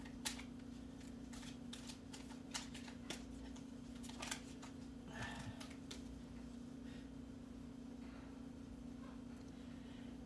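Tarot cards are shuffled by hand in a quiet room, with soft crisp riffles and flicks in an irregular rhythm over a steady low hum.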